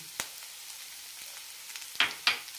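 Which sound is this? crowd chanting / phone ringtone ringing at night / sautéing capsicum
sautéing capsicum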